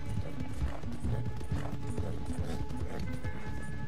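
Rapid hoofbeats of a galloping horse in Red Dead Redemption 2, a fast continuous clatter up close with rhythmic thuds and some mechanical rattle underneath.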